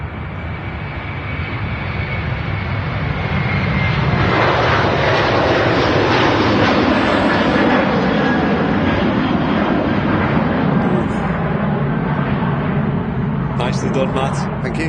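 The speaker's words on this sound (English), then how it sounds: "There you go, Aer Lingus 330 rolling." An Aer Lingus Airbus A330-300 rolls down the runway for takeoff at Manchester Airport, its jet engines building into a loud, sustained roar that swells and holds, while people talk over it.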